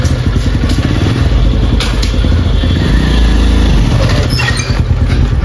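A motorcycle engine roars loudly and close, rising with the throttle and then easing off, with a clatter and a thud mixed into the steady drone.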